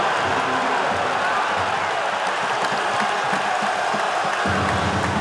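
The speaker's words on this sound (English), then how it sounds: "This Wake Forest crowd has come to life as a slam dunk contest has opened up at the Joel" A basketball crowd at Wake Forest roars and cheers after a slam dunk, a sustained loud wash of cheering and applause filling the arena, with a commentator speaking over it.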